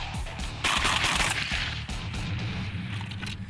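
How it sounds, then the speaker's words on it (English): Mossberg 930 shotgun fired at thrown targets outdoors, a rapid burst of close, loud blasts running together through the whole stretch with no talk. "Flanigan is trying it out with his Mossberg 930 before deciding whether to add it to his show routine."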